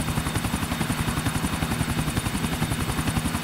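A helicopter in GTA 4, its rotor thumping in a fast, even pulse over a steady engine whine, loud and close throughout with no talking.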